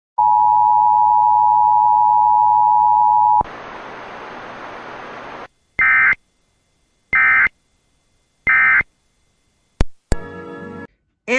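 EAS emergency alert test on KDKA, Pittsburgh: a steady loud attention tone runs about three seconds, then a broad noise burst, followed by three evenly spaced data-burst chirps and a final short electronic buzz, no voices.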